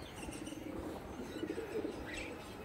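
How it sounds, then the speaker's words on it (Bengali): An original Andhra pigeon coos softly and repeatedly up close, joined by faint chirps and a light flutter of wings. "অরিজিনাল আন্ধ্রা পায়রা।"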